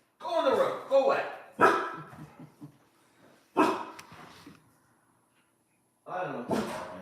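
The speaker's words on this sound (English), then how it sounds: "everybody's dogs who are barking now" Several dogs bark in bursts, some close and loud, with short yips and pauses between them; no talk is heard over the barking.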